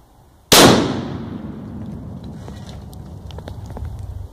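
Three ounces of nitroglycerin detonate in one sudden loud blast, then a long rumbling decay with scattered faint crackles and debris sounds trailing off outdoors.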